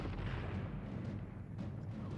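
Artillery fire from a battle scene in the 1970 film Waterloo comes through as a faint, continuous low rumble of distant cannon, with no separate sharp blasts standing out.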